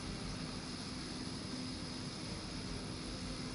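A Hydra helicopter in the Marvel Midnight Suns video game gives off a steady, continuous engine and rotor drone that holds at an even level throughout, with no talking.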